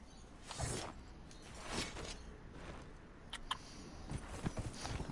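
Horses gallop in the video game Dragon Age Inquisition, faint hoofbeats thudding in uneven bursts with small creaks of gear, quiet and with no talking.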